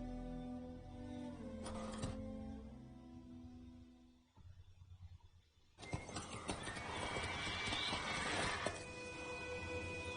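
Geralt's horse Roach in Witcher 3: a loud whinny and snorting early on, then a burst of rapid hoofbeats clattering nearby for the last few seconds, over steady game ambience.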